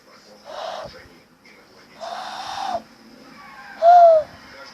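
A person whistles through cupped hands in imitation of a crow call, giving three short hoarse bursts spaced about a second apart, the last loudest, close and alone without talk.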